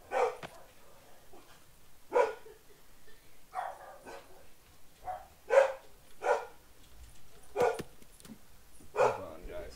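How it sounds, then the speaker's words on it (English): A pet dog barks at nothing in a house, sharp barks repeating every second or so across the stretch, fairly close and moderately loud, with quieter gaps between bursts. "my dog just barking at absolutely nothing"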